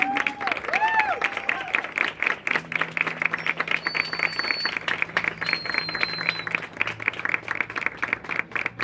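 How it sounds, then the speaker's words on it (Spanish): An audience at a book presentation applauds in a sustained, dense patter of clapping, with brief voices and a little music early on underneath. "voy a pedir un aplauso para ella"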